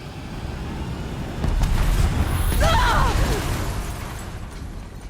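A blast bomb goes off in the video game Horizon Zero Dawn: a loud, rumbling explosion swells up and fades over a few seconds, mixed with other game sounds and a brief voice.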